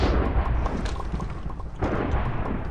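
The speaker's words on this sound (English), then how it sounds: "Yeah, Matt's still shooting at me." Players shoot at each other in the Minecraft Splegg video game, giving dense, loud bursts of booming, crunching game noise that swell twice in quick succession, with no voices.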